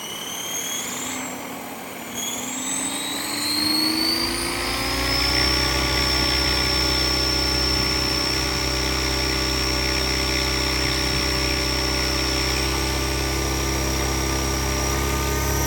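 Roban Airwolf 600-scale RC helicopter spooling up and running, its whining rotor and motor tone rising over the first seconds, then holding a steady, loud, close drone with a high electric whine throughout, with no speech.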